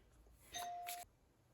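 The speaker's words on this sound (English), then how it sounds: "There was someone at the door and they rang the doorbell, which usually never happens here." A doorbell rings at a house, two clear chimes about half a second apart, loud and close against a quiet room with no talking.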